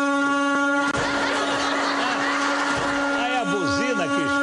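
A loud, sustained horn mounted on a car hood blares with a steady buzzing tone, joined by whirring mechanical noise and warbling sweeps near the end.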